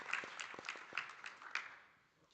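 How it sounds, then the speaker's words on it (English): Scattered, fairly quiet applause from a conference audience at an oil and gas session honoring its panelists, a few distinct claps standing out over a thin patter that fades away after about two seconds. "give another round of applause to my panelists"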